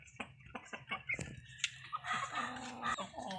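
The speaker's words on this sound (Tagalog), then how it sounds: "Ayan ang inahin, si Negra." Mother hen clucking in a backyard flock kept as pets, a run of short clucks at first, then denser overlapping fowl calls and rooster-like cries, close and fairly loud with other birds around.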